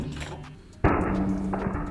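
An iPhone 15 Pro Max in a case lands on its corner in a drop test, making a single sharp thud against the ground followed by brief scuffing.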